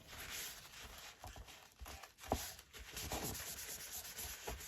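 Excess glue is wiped off paper while a folio is being extended to make it bigger, with close, soft rubbing and dabbing strokes and scattered light taps, no talk.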